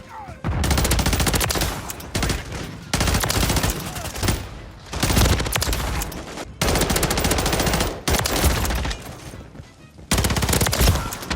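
Rapid automatic fire from a BP50 submachine gun in the shooter game Modern Warfare 3, loud sustained bursts of several seconds each separated by brief pauses.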